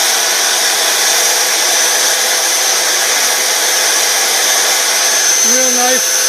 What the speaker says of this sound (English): I'm going to take my belt sander. I'm just going to clean that up a little bit.